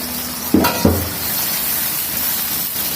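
Onions dropped into a pot of frying beef with peppercorns, cardamom and bay leaf, two quick hissing bursts as they land, followed by a steady soft sizzle.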